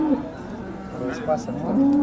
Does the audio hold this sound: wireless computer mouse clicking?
no